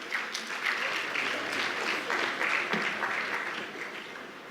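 A large audience at a bank's annual meetings applauds a former prime minister of Guinea being invited to a panel, a dense continuous wash of clapping that holds steady and then eases slightly.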